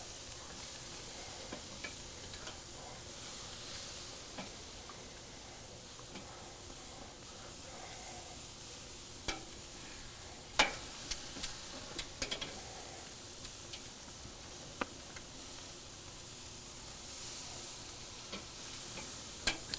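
Steaks sizzle steadily on a hot charcoal Pit Boss Phoenix Onyx Edition grill, a soft continuous frying hiss broken by a few sharp crackles and light clicks as the meat is moved around, with no talking.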